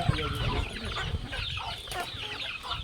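Chickens and small chicks on a backyard farm cluck and peep continuously, close by, with busy overlapping calls and no talking.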